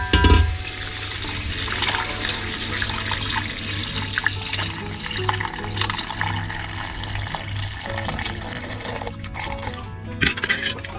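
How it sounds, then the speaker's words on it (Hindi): Homemade chicken broth (yakhni) poured into a cooking pot, a steady continuous liquid splashing and gurgling that runs loud and close throughout, with a brief surge near the start and no speech. "अब इसमें हम यखनी शामिल करेंगे जो हमने बनाई हुई थी।"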